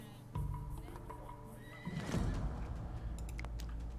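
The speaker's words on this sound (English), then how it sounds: "I have 3 horses, so I guess they are breeding somewhat." Horses in the Dawn of Man game neighing, a whinny rising clearly midway over a low rumbling ambience with clip-clop hooves, moderately loud and close.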